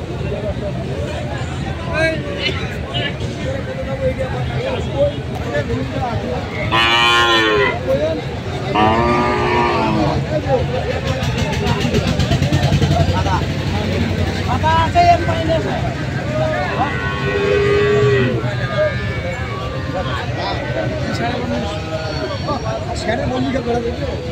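Several cattle, including dairy cows with calves, moo loudly and repeatedly over a crowded outdoor hubbub of people talking at a cattle market in Kaharol, Dinajpur, with a low engine drone underneath.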